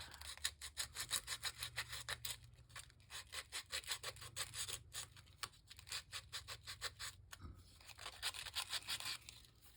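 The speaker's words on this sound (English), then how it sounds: "Okay, now that'll make it easier for me to sand." A Halloween tag worked over by hand with sandpaper gives a steady back-and-forth rasping in quick rhythmic strokes, close and fairly faint, briefly pausing near the end before resuming.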